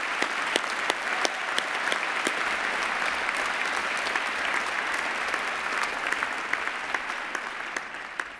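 Sustained applause from a seated audience at a university postgraduate graduation ceremony in the Faculty of Medicine, a dense even wash of clapping with sharper individual claps standing out, continuing steadily for several seconds before easing slightly at the end.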